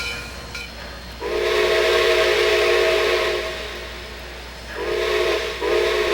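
A steam locomotive whistle in the Trainz game, from a lead engine in a Chessie double-header with Greenbrier #614: a loud, sustained multi-tone blast, a short pause, then two more blasts over a low steady hiss.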